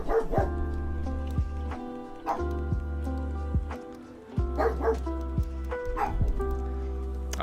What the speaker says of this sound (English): So they're barking at a bird.